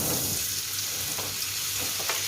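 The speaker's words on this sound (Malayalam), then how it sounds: "ഓയിൽ ചൂടായി വരുമ്പോൾ നമുക്കതിലേക്ക് മാരിനേറ്റ് ചെയ്ത് വെച്ചിരിക്കുന്ന ചിക്കൻ സോസേജ് നമുക്ക് ചേർത്ത്" Marinated chicken sausage fries in hot oil, a close, steady crackling sizzle with faint stirring noises throughout.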